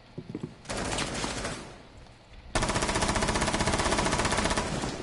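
Video game gunfire: a short burst of automatic fire, a pause, then a sustained rapid machine-gun stream, loud and close, with no talking.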